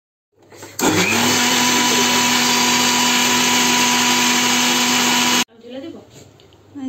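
A kitchen blender purées cooled homemade tomato ketchup in one loud, steady whir lasting several seconds, then stops abruptly, leaving faint kitchen noise afterward.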